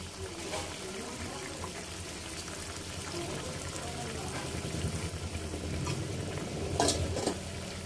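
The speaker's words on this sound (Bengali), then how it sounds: "ঢাকনা তোলার পর এবার আমি ভেজে রাখা চাপিলা মাছগুলো দিয়ে দিচ্ছি।" Fried chapila fish are added to a pan of simmering chorchori curry and stirred, giving soft sizzling and bubbling with scraping and clinking of a utensil that grows busier toward the end.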